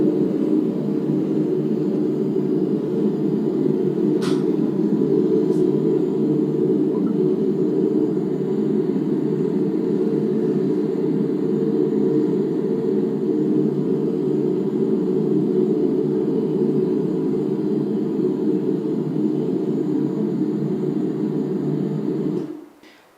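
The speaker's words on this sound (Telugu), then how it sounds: "787-8 అనేటువంటి ఈ విమానం చెన్నై ఎయిర్పోర్ట్ నుంచి బయలుదేరి లండన్కి చేరుకోవాల్సి ఉంది" A Boeing 787-8 airliner flying with a steady, low droning rumble that holds constant for over twenty seconds and then cuts off abruptly at the end, with a couple of faint brief clicks early on.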